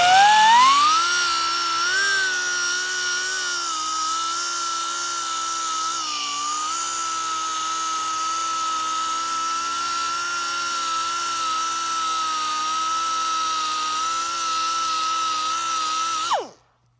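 A power tool with sandpaper around 120 grit sands and polishes a metal bowtie, a steady high whine that holds level for about sixteen seconds, close and loud, then cuts off abruptly.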